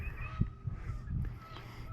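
Low, throaty coot calls with a blatting, honking quality sound from open water in a few short bursts, with some splashing and background noise.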